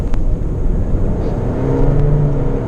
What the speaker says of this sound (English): the sound of the engine is rather loud, but very little road noise